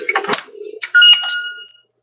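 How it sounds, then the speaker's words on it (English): A phone gives a short run of chirping notification tones, close and fairly loud, with one sustained tone near the end of a brief burst. "My phone is going crazy."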